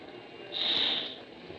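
A single short, breathy hiss made by a voice imitating a rocket, swelling and fading over about half a second against quiet background noise.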